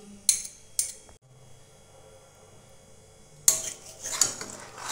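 A spoon clanks and scrapes against a metal pan while stirring paneer curry with garam masala powder and ghee, a few sharp knocks early, a quiet pause, then a louder burst of clattering strokes near the end.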